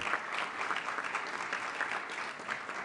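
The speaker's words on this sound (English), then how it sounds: "if you would just give him a round of applause" Applause for an award honoree at an arts leadership breakfast, a steady wash of clapping from a modest audience heard at moderate distance. No cheering or voices stand out, and the clapping runs without a break through the short span.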